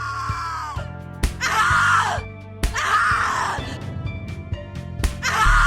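A woman screams and groans in The Cat Lady video game, in several loud, strained bursts with breaks between them, over a low, steady droning game soundtrack.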